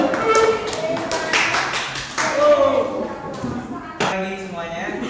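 Classroom audience clapping for a presenting student group, sharp uneven claps mixed in with people talking nearby.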